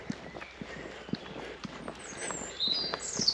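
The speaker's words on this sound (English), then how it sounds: "kind of a couple of horses behind me" Horse hooves clop along at a walking pace, a steady light rhythm of knocks close by, with a faint high whine rising near the end.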